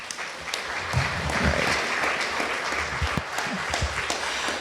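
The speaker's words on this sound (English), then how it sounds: "Let's give her another round of applause." A summit audience claps for a speaker on youth mental health, a dense, sustained round of applause at moderate loudness with a few louder individual claps standing out near the front.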